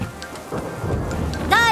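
Cartoon thunderstorm with steady rain and a low thunder rumble, heard in a short burst under music and a sliding sound effect.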